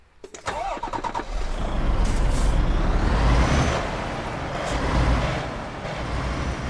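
A big rented truck in Euro Truck Simulator 2 gives a sharp hiss of air brakes, then its engine starts and rumbles steadily, loud and close, with a softer second air release near the end.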